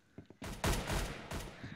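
A burst of rapid gunfire fills a round of the online shooter Arsenal, opening with a few quiet clicks before a loud, dense volley that holds for about a second and then trails off.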